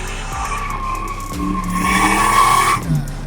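At a stock car race, a car slides sideways with its tires squealing and skidding, the screech swelling loudly in the middle over the engine's revving.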